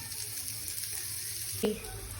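Onion frying on a griddle for Sri Lankan kothu roti, a steady close sizzle with one brief knock of a utensil near the end.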